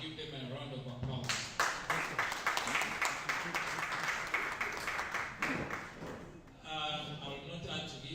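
Audience applause following a presentation at a classification defense, steady clapping from a crowd that swells and carries on for several seconds before tapering.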